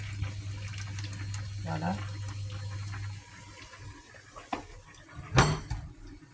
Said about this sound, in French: Nous allons mettre le lait.